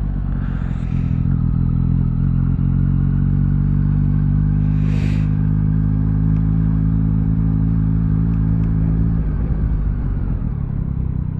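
A Triumph Street Triple 765RS motorcycle on a test ride drones steadily and loudly throughout, with a deep, even engine note and faint wind and road noise, no voices.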